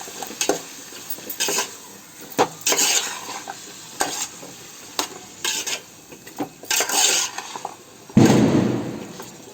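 Brinjal, tomato and potato curry is stirred in a pan: repeated scraping strokes of a spoon over a low sizzle, ending in a louder burst of frying, with no talk.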